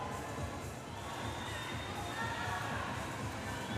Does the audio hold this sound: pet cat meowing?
no